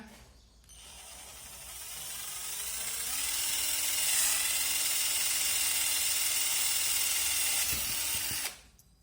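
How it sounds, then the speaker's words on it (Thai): A power drill with a large bit bores through the center of a plastic bottle cap, whirring steadily for several seconds, starting up, holding a high-pitched mechanical whine, then stopping abruptly; no talking. "ทำการเจาะ ขวดนะผมฝาขวดตรงกลางนะเนี่ยเอาดอกใหญ่เจาะตรงกลางนะตรงกลางไปเป๊ะเลยนะ"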